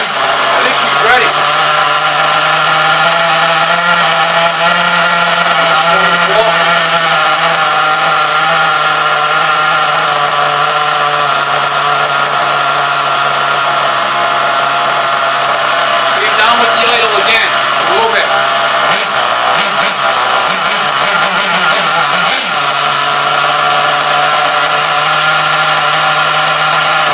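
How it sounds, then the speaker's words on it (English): A Losi 427 nitro engine in an HPI Savage RC truck idles and revs continuously, a loud, buzzy high-pitched drone close to the microphone with slight pitch swells throughout. "Really good running nitro engine right there."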